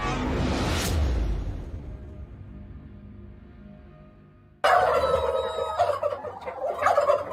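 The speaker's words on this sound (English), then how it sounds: "These are the turkeys." Farm-raised turkeys gobble in a loud, close chorus that starts abruptly after a whooshing sweep and a fading, quiet stretch, with overlapping calls continuing to the end.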